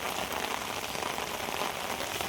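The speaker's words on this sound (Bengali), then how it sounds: "বৃষ্টিও শুরু হয়েছে দেখেন প্রচুর পরিমাণ বৃষ্টি হবে" Heavy rain begins falling in a flooded village during a storm, a dense, steady hiss of drops on water and surfaces that runs unbroken and fairly even, with no voices over it.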